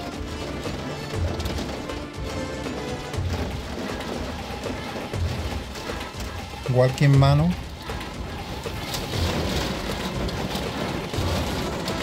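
Heavy rain and wind from a storm that arrived unexpectedly in Encinarejo keep up a steady wash of noise throughout, with a loud burst, like a gust or clap, around the middle. Voices talk over it.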